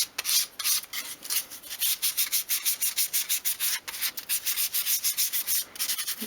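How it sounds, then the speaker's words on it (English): Small wooden strip for a 1/12 scale model garden shed being sanded along its edge with sandpaper held at an angle, a close, rhythmic series of quick scratchy rubbing strokes repeating steadily throughout. "just hold your sandpaper at an angle and sweep it along the edge of the strip"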